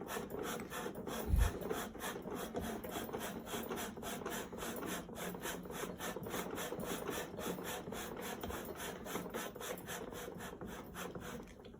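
A ring being lapped on a lapping plate in a lab, a steady back-and-forth rasping scrape repeating in an even rhythm, fairly quiet, with one brief knock near the start.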